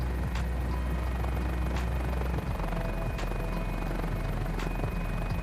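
Mini-500 light helicopter in a flight simulator, its engine and rotor giving a steady, loud drone with a low throb and faint periodic blade whooshes throughout, no talking.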